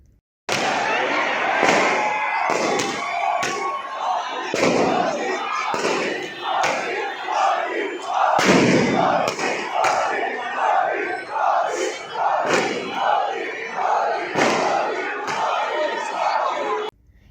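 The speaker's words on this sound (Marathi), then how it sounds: "क्रिकेटप्रेमींनी रस्त्यावर येत प्रचंड जल्लोष साजरा केलाय" Cricket fans celebrating India's World Cup win crowd a street in Amravati, a loud, continuous roar of cheering and shouting voices punctuated by sharp cracks like firecrackers and bursts of louder yells throughout.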